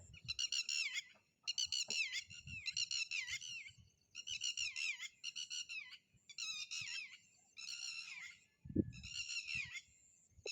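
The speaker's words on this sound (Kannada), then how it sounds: "ಈ ಪಕ್ಷಿ ನೋಡಿ ಯಾವ ಥರ ಸೌಂಡ್ ಮಾಡಿ ಮಾಡ್ತಾಯಿದೆ" A bird repeats a harsh, wavering call in regular bursts with short pauses, clear and fairly near against a quiet background with faint rustling.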